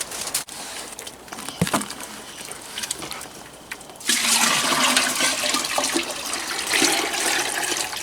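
Maple sap being poured to top off a collection jug, a steady close splashing and gurgling of liquid that grows louder and fuller partway through, with no talking.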